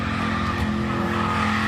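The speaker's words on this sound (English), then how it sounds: "That's when the car rapidly accelerates." A car speeding up hard down a dark street at night, engine revving loud and steady with a hint of tire noise throughout, no talk.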